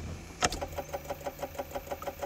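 Car engine being started at night after battery trouble: a sharp click, then a faint, even train of rhythmic cranking or chugging pulses, with no talk.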